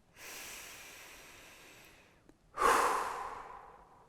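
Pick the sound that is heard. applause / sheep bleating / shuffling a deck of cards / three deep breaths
three deep breaths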